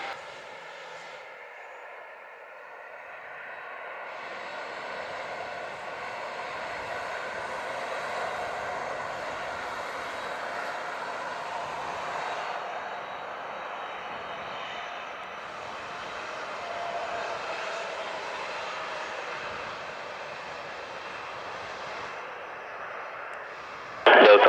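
A passenger airliner taking off from Montego Bay airport in Jamaica, a steady loud engine roar building and holding as it accelerates down the runway, with no talk over it.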